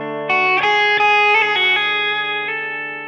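Novo electric guitar on its bridge pickup with an overdriven tone, a few loud sustained chords struck in quick succession and left ringing, slowly fading with no talking.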